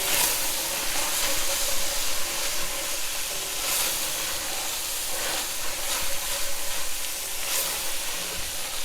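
Cooked vegetables and lardons are stirred together in a pan over medium-high heat for a Bolognese meat sauce, giving a continuous hissing sizzle with a few brief scraping bursts from the stirring. No voices are heard.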